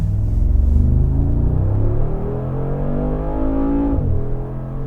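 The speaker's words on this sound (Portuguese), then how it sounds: "Olha o som desse carro acelerando." Mercedes-AMG G63 4x4 engine accelerating hard, a loud, deep, aggressive rumble whose rising harmonics climb steadily before a brief dip near the end, heard up close with no talking.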